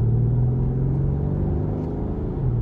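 Deep, steady rumble of a 2019 Mercedes-Benz GLS 63 AMG with its 5.5-litre bi-turbo V8, heard from inside the cabin while driving, a continuous loud low drone holding even throughout.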